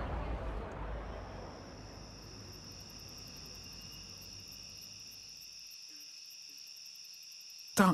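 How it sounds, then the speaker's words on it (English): Night insects in Singapore chirp in steady, high continuous trills, with a faint low rumble fading out early and a brief bump at the very end. "Darkness-loving insects begin to prowl out of sight."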